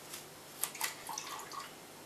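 Water poured into a soy sauce marinade makes soft, faint trickles and a few scattered drips and splashes, with no talking.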